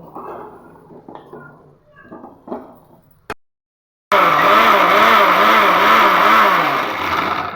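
A kitchen mixer grinder whirs loudly and steadily with a wavering motor hum as it blends boiled ivy gourd for chutney, starting abruptly after a stretch of quiet talk and a sharp click.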